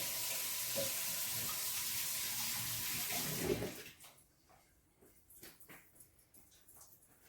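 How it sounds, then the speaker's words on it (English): Tap water runs steadily into a sink for hand washing before preparing Oreo balls, a loud continuous rush that stops abruptly, followed by quieter splashes and handling sounds. "Now I'm going to go wash my hands,"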